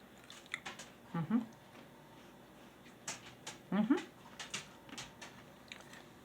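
Homemade keto Frito chips fried in very hot oil and made with psyllium husk or xanthan gum, crunched in the mouth in a few close, sharp bites with snapping crackles and quieter chewing between them.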